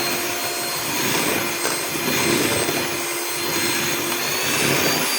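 An electric hand mixer runs at higher speed, beating steamed sponge cake batter until thick and ribbon-like, giving a steady, loud whir that stays constant throughout with no talking.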